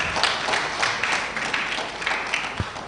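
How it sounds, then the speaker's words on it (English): Audience clapping for a presenter at a conference session, a moderate, somewhat sparse patter of hands that continues steadily, fairly close with room ambience and no speech. "Please, let's clap for her."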